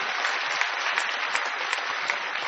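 Crowd clapping at a mushaira poetry event, a thick, even stretch of applause at steady volume with no voices over it.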